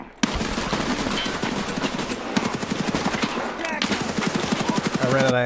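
Rapid automatic gunfire in the video game Escape from Tarkov, a dense burst of close, loud shots running almost continuously with a few sharper single cracks near the end.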